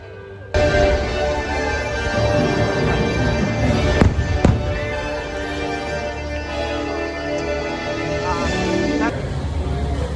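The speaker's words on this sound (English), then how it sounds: "I tried to get a little bit of the fireworks, but the crowds are crazy." Fireworks at an Orlando theme park during the Halloween season, heard from within a dense crowd: a continuous rumble with sharp bangs, crowd noise throughout.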